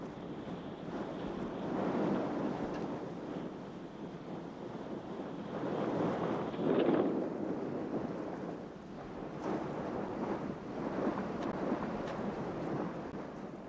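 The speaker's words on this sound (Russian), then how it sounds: "Свежий ветер и течение гольфстрима образовывает толчею волн." Fresh wind and choppy Gulf Stream waves wash around a racing yacht in the Whitbread Round the World Race, a continuous rushing roar that swells and eases, with no voices.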